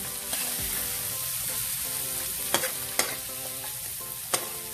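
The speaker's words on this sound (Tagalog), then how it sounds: "Ito na rin yung cooking pan na ating gagamitin sa ating pagpiprito ng itlog." Egg frying in oil in a cooking pan, a steady close sizzle broken by a few sharp clicks and taps from stirring or utensil contact.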